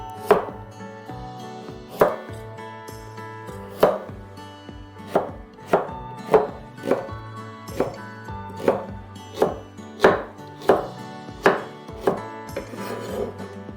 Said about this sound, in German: Möhren in feine Streifen schneiden.